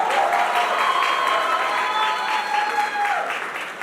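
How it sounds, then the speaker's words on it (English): A college audience gives loud, sustained applause for the principal, with dense clapping, some crowd noise and faint cheering throughout. "a big round of applause for your principal for giving Mahima this shot"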